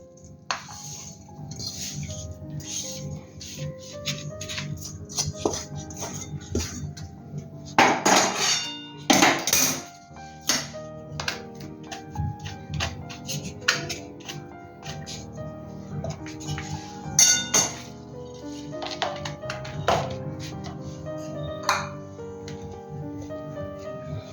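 A sesame brittle mixture for Makar Sankranti til vadi is scraped out of the pan onto a plate, with close metallic clinks, knocks and scrapes repeating irregularly throughout.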